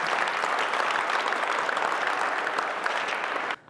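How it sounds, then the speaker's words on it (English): Audience applause for a student athlete at a high school signing day, a steady, fairly loud crowd clapping throughout before cutting off abruptly near the end. "Let's give Carter a round of applause."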